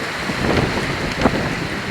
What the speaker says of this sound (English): Windy out, but Yes, it feels good.